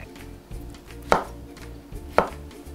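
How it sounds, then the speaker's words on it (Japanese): A knife cuts shiitake mushroom stems into pieces on a board, two crisp distinct chops over quiet low background, close up. "椎茸はね、軸も美味しいので、軸は軸でちょっと3つくらいにこう切って"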